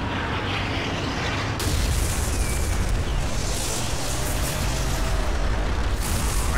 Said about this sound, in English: Artillery fire imminent, sir.